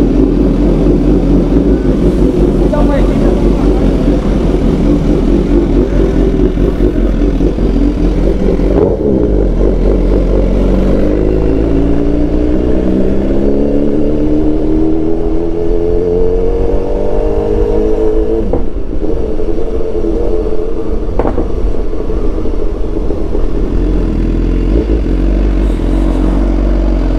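A Suzuki GSX-S1000 GX sport motorcycle engine idles and revs through a test exhaust tip, a loud, deep rumble rising and falling in repeated throttle blips, close by.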